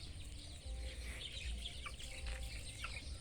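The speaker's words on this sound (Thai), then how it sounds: "ได้ยินเสียงนกเสียงไก่" Outdoor chatter of birds and chickens, with faint clucks and chirps scattered over a steady low background rumble.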